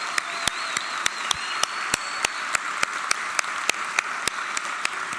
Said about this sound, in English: Can we take a minute and clap for Kathy Brecky?